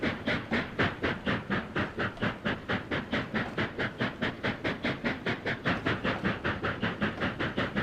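Steam locomotive running in the rail simulator Trainz A New Era, a steady rapid chuffing rhythm of evenly spaced exhaust beats with hissing, loud and continuous throughout.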